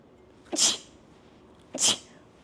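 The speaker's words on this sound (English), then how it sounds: "it is sneeze." Two sharp sneezes, close by, a little over a second apart, each a quick explosive burst in a quiet room.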